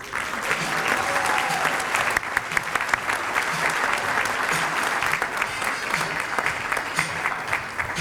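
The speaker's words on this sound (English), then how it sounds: "Heartwarming applause for Dr." Warm applause fills a room at the United Way of the Lower Eastern Shore 2014 awards ceremony as the Heart of United Way Award winner is honored. The clapping is dense and sustained, with scattered crowd sounds.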